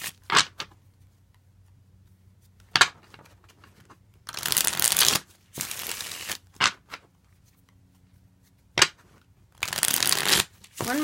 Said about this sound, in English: One more shuffle, and we're good to go.